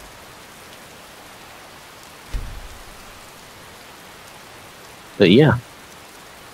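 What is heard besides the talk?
rain in Skyrim, Nimbus weather mod, video game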